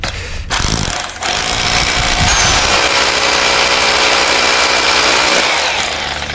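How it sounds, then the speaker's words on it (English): A hammer drill bores dowel holes into concrete, a loud, continuous, gritty whine and rattle that starts with a brief stutter and then runs steadily and close throughout, with no talking. "This is just a hammer drill to put the dowels in with."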